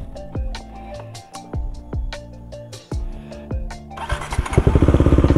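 Bajaj Dominar 400 motorcycle cranks with several loud, close starter thumps before the engine catches and settles into a rapid, throbbing idle.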